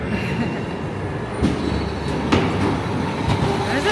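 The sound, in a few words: ghost train ride car on rails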